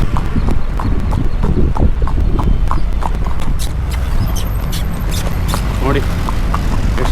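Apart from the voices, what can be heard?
horse hooves clip-clopping while riding downhill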